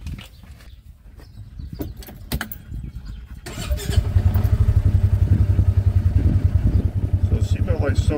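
A 2023 Ford Ranger pulls away and drives, its engine droning steadily up close from inside the cab after a few seconds of clatter and handling noise.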